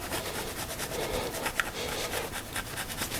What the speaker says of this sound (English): I'm just gonna start with a plastic scraper